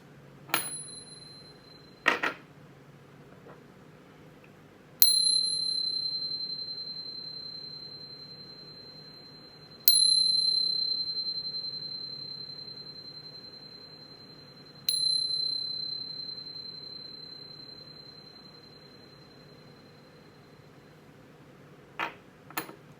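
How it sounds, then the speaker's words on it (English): A bright metal chime or bell, rung before a tarot reading, strikes four clear ringing tones about five seconds apart, each decaying slowly. Fainter clicks and a low room hum sit beneath, with no talking. "But first, let's chime."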